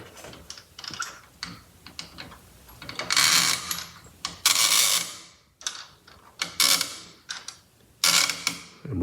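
A Craftsman Excalibur Elite adjustable tool is worked open, giving a run of clicking, ratcheting mechanical bursts in quick irregular groups, fairly close and with no talk over it.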